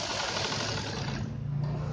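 A sewing machine running a continuous stitching pass along a cold-shoulder sleeve, a close, steady mechanical whir that shifts slightly in tone near the end.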